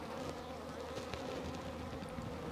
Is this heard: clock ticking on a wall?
no